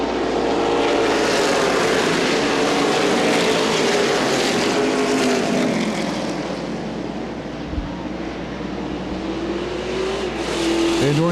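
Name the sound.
race cars accelerating at green flag restart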